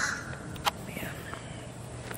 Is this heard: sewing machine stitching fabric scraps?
no